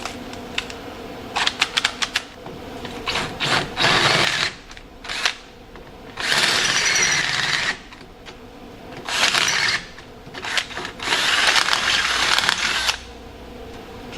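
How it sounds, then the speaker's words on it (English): An electric drill, about twenty years old, bores out the holes in a 4th-gen Trans Am/Camaro brake spindle, running in several slow bursts of whirring and grinding with quiet pauses and clicks between them. "Just drill them out slow."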